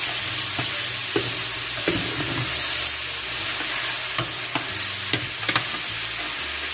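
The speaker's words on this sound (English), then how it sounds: "I'm just gonna start adding the sweet potatoes into the meat." Sweet potatoes are stirred into ground brisket frying in a pan, with a steady loud sizzle and regular scraping knocks of the spoon against the pan, close up and without talk.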